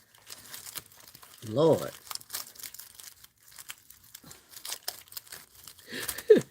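Packing paper stuck with tape crinkled and balled up by hand, two short bursts of loud crumpling, with someone talking quietly between them.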